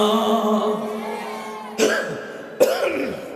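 Two sharp, close coughs from a man with a cold and sore throat follow a stretch of his speaking voice during a sermon, spaced about a second apart.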